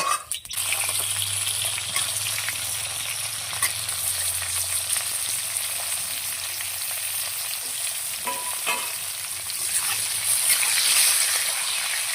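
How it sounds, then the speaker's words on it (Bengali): Panch phoron spices sizzle in hot oil, a dense, continuous frying crackle that stays loud and steady with no talking. "এই তেলেই আমি একটু পাঁচফোড়ন দিয়ে দেবো"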